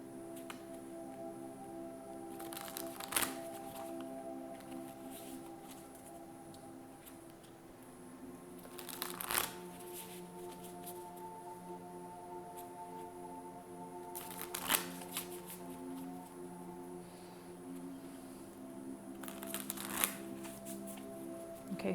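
Animal spirit oracle cards are shuffled in several short, soft bursts spaced a few seconds apart, riffling quietly over a faint steady hum in a calm indoor room.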